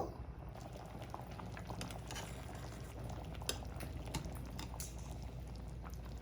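Egg sambar with whole eggs simmering in a pot on medium heat, a steady close bubbling and gurgling that runs on evenly without talk.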